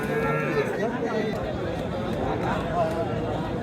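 At a village cattle market in Muktirhat, Dhobaura, Mymensingh, a dense crowd murmur of many voices fills the air, with faint animal calls from the cattle blending into the steady hubbub.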